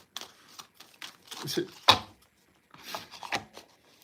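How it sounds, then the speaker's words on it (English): A deck of playing cards being shuffled by hand in a tarot or oracle card reading, with several quick riffling and rubbing bursts and one sharp snap near the middle, close and fairly quiet. "I'm gonna shuffle 3 more times"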